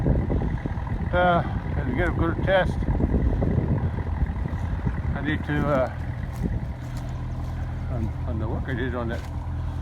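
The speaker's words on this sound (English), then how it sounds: "I decided to go ahead, since I had the tractor started" A farm tractor engine idles in a steady low rumble close by, running throughout while someone talks over it.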